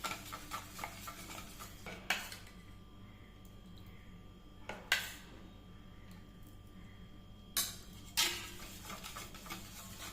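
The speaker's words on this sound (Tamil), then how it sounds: "இப்போ கொஞ்சம் கொஞ்சமாக ஊற்றி கலந்துக்கலாம்." A spoon stirs milk into a beaten egg mixture for caramel pudding, giving soft scraping and swirling sounds against the bowl, with a few light clinks of the utensil on the rim, quiet and close.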